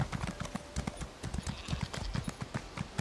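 Horse hooves clip-clop at a steady trotting rhythm across a road in The Elder Scrolls Online, close and fairly loud, with faint game ambience behind them.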